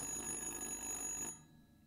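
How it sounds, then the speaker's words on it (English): A steady electronic telephone ring in the video game Little Hope trills continuously, then cuts off abruptly, leaving a faint hum. "The phone is ringing."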